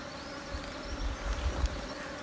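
Bees buzz steadily and close, a continuous droning hum with small swells as individual insects pass near.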